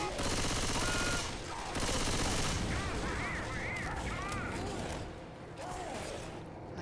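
Rapid gunfire from a zombie video game, dense bursts of shots filling the first seconds, then a busier mix of game effects and voices, loud and continuous throughout.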